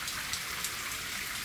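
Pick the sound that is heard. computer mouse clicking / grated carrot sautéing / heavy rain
heavy rain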